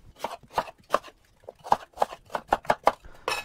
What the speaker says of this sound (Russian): И все несъедобные части вырезаю и нарезаю вот на такие некрупные